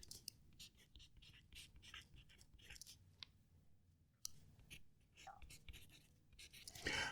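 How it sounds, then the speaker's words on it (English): An Opus 88 fountain pen writing on the last sheet of paper, with a soft, close scratchy scrawl of short strokes at a low level. Near the end, paper handling adds a brief louder rustle. "Just going to move it over a little bit so it's a little bit closer to the mic to try and pick up the sound of it writing."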